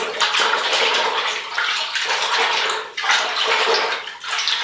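Hands swirl Marseille soap through a basin of water, a steady churning splash and slosh that rises and dips in waves, loud and close with no talk.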